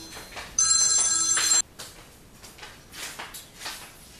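A telephone rings once in a home kitchen, a loud bright burst of about a second, then quieter clattering and handling noises follow.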